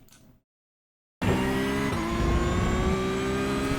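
A Porsche GT3 Cup 992.1 racing at Montreal's Gilles Villeneuve circuit in iRacing comes in loud after a short silence, its engine revving hard under full throttle with a gear change partway through.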